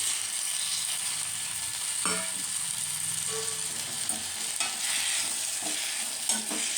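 Cut tomatoes sauté in hot oil for a gravy, giving a steady close sizzle with occasional stirring scrapes and small clinks, no voices.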